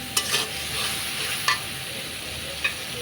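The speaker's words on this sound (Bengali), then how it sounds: "নেড়ে নিব।" Spices frying in a pan for a tilapia and potato curry are stirred with a few sharp scraping strokes over a steady, soft sizzle, close by with no one talking.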